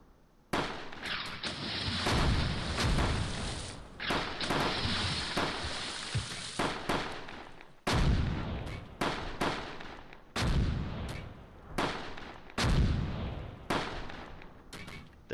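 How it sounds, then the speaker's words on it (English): Artillery salvo in the WWII Normandy war game Close Combat: Gateway to Caen: a loud, dense run of booming blasts and explosions, then several separate heavy impacts spaced a second or two apart. "Hit them with one more salvo."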